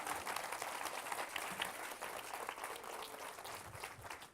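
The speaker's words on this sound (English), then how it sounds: "Big applause for David." Audience applause at an education forum on middle school students, steady dense clapping that fills the room for the whole stretch, fairly distant and even.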